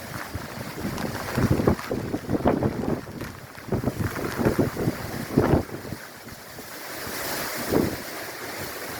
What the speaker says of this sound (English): The winds have definitely picked up from just 3-4 minutes ago